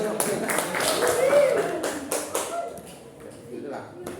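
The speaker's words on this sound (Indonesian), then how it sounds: "Tepuk tangan dulu." An audience in a physics classroom claps in scattered sharp taps under an ongoing voice, the clapping fading toward the end.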